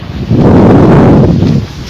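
Wind gusts roughly and steadily around an outdoor cooking fire where oil is being heated, a loud, close, buffeting rush that swells after a quarter second and eases near the end, with no voices.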